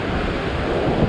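Sea waves break and wash on the shore during sea fishing, a loud, continuous roar of surf with wind buffeting the microphone and no voices.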